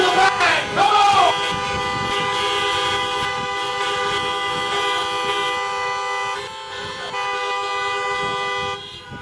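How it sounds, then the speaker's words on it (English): A crowd of car horns honks together at a drive-in menorah lighting for Hanukkah, many overlapping tones sounding almost continuously and loudly for several seconds before easing slightly near the end. "And honk your horns for the band,"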